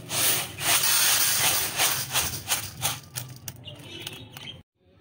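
Wheat grains are roasted in a pan and stirred steadily, a continuous dry scraping and rustling close by, with rhythmic strokes that fade out before a short silence at the end.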